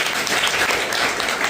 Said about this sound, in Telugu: Clap for her.